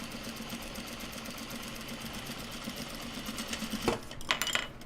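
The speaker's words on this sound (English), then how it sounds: "we're just basting down the top edge of the pocket here" Sewing machine basting the top edge of a pocket on a small sling bag of Japanese fabric, a close, steady mechanical whir that changes into a few louder uneven bursts near the end, with no talking.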